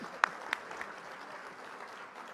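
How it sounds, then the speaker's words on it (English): Guests at a school teacher-of-the-year gala clap faintly and steadily, a soft distant patter with a couple of sharper claps standing out early. "give a round of applause, please"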